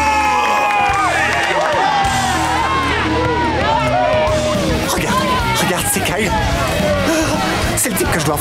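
A studio audience cheers and shouts excitedly for a villain's entrance on a superhero comedy show, loud, dense crowd excitement with overlapping voices and whoops sustained throughout.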